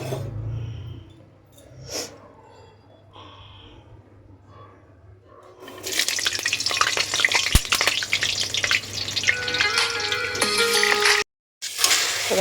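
Potatoes drop into hot oil for a meat curry. After a few quiet seconds with soft voices and small kitchen noises, a sudden loud, close sizzle breaks out and crackles on, broken by one brief pause.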